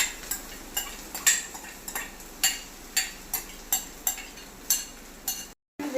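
Onion and okra sauté in a pan as a utensil clinks against it in a steady rhythm of about two taps a second, over a soft, low frying hiss.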